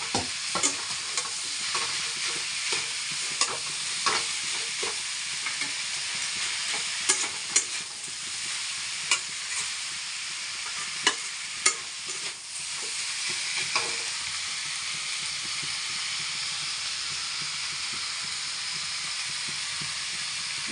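Boiled potato for banana-flower chops is stirred and fried in a pan, giving a steady hiss of sizzling oil with scattered clinks and scrapes of the utensil against the pan.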